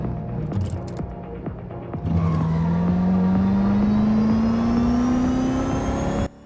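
Race car engines from the mobile racing game Real Racing 3: after a few quieter ticks, a loud engine note rises steadily in pitch as the car accelerates, holding close and strong for several seconds before cutting off abruptly.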